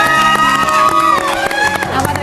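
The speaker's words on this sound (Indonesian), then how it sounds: "Kasih tepuk tangan dong." Studio audience at an Indonesian TV talk show clapping and cheering, a loud dense burst of applause with scattered shouts, steady throughout.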